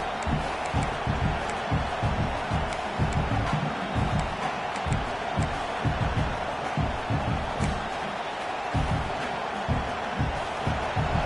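Football stadium crowd roaring early in a game, a dense steady wall of cheering and noise with faint rhythmic thumps underneath, loud and continuous throughout.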